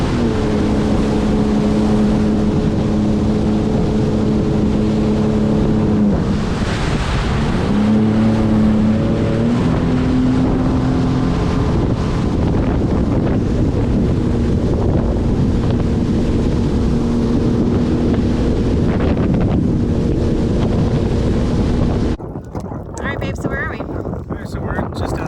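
A jet ski runs on a river at Crystal River, Florida, its engine droning steadily with strong wind buffeting the microphone throughout, while people talk over it.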